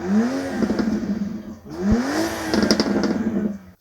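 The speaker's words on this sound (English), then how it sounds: "This engine is punchy, efficient, and sounds good from factory." A 2025 BMW X3 M50's B58 six-cylinder engine with a particulate filter revs twice, rising sharply in pitch each time before dropping back, loud and close with no talking.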